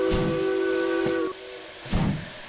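A steam locomotive whistle in the Derail Valley train simulator, the SH282 engine, sounds one sustained, steady blast that cuts off after about a second, followed by hissing steam and low rumbling.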